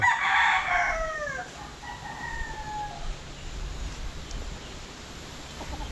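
A rooster crows loudly once up close at the start, followed by a softer second crow, over a quiet background of distant farmyard ambience.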